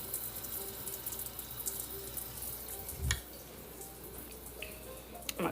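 Tap water from a kitchen sink runs steadily into a mug, a continuous hissing splash with a few sharper knocks and drips, close and moderately quiet, with no talk.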